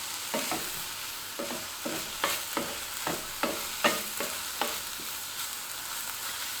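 Vegetables seasoned with garlic salt, onion powder and smoked paprika cook in a frying pan. A utensil stirs and scrapes in a steady, repeated rhythm over a soft, continuous sizzle, close and alone with no talk.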